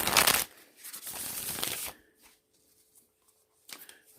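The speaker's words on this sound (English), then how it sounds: "So I'm going to shuffle the deck." A deck of cards is shuffled in two quick riffling bursts close up, then near silence with a soft rustle at the end.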